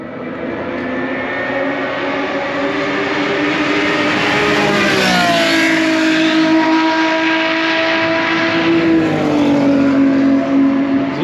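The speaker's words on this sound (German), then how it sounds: "Das lauteste Auto bis jetzt." A loud race car at the Spa-Francorchamps circuit during the 24-hour event, its engine note rising and falling as it drives past, growing louder and nearer toward the middle and holding strong to the end, with no talk.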